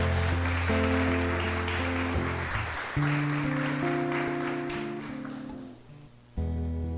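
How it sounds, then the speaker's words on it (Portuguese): A church congregation applauds after a scripture reading, with steady clapping over sustained keyboard chords that fades toward the end before the music swells again. "Vamos aplaudir a palavra santa."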